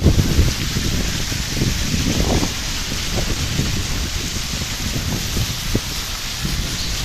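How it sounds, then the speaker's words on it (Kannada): Heavy rain pours steadily in Bhagamandala, a dense broadband hiss with low rumbling wash underneath, constant and loud throughout. "ಜೋರು ಮಳೆ ಇದೆ."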